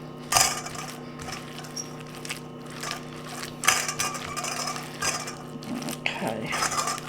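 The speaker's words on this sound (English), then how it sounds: "We're going to go ahead and mix that up really well." Pickles get mixed into a chicken pinwheel filling, giving irregular close clicks, scrapes and clattering knocks at an uneven pace with a quiet steady background hum.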